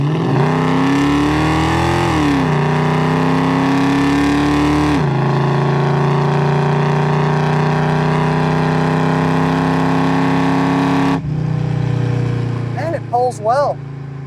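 A 1970 Chevrolet Chevelle with a 396 engine drones steadily from inside the cabin while driving, its pitch rising with revs and then dropping as it shifts, a continuous loud rumble that fades near the end.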